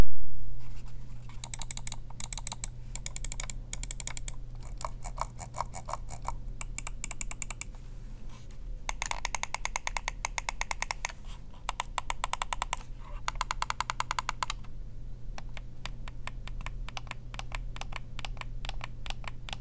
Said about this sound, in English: let's go ahead and give you a sound test.